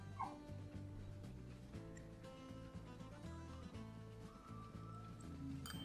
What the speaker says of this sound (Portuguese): E o cachorro chato latindo